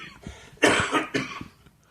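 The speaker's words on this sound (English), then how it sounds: "I am sorry about the coughing." A person coughs in a few short, harsh bursts, close and fairly loud, with a quieter rasp before and after in an otherwise quiet room.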